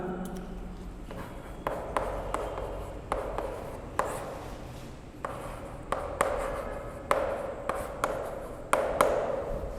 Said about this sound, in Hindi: तो मैं यह मात्रक यहाँ लिख देता हूँ इसका।